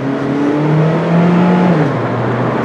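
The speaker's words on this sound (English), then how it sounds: "let's rev it." A Honda Civic with a misfire, driven at around 70 miles an hour, revs its engine: a loud, close, rising drone that climbs in pitch and then drops away.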